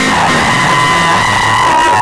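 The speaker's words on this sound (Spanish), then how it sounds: "Aplausos por la señorita Cuarto Oscuro." A contest audience at a year-end show yells and screams continuously for a contestant, a loud, unbroken wall of shouting voices with little clapping evident.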